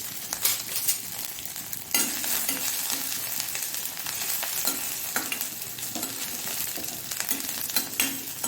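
Chopped ginger and garlic sizzle steadily in hot oil in a pan while a utensil stirs and scrapes, with occasional louder clinks against the metal, close and continuous.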